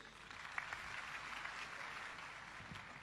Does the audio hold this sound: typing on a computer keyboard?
no